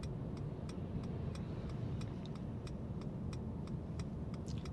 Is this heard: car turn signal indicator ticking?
yes